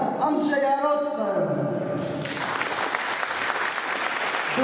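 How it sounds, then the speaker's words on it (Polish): Audience at a symphony orchestra concert breaking into applause: someone speaks for about two seconds, then warm, dense clapping from a large hall takes over and continues steadily to the end. "Duże brawa"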